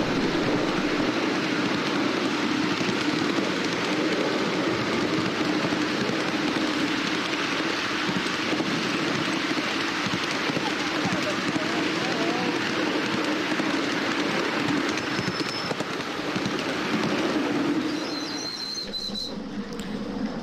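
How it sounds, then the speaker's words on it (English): A miniature passenger train rolls along the track at Scarle Junction as it drops down a grade beside a tree line, giving a steady, continuous rumble and clatter throughout with no voices. "As the train draws alongside the tree line, we start to drop down the grade towards our second foot crossing."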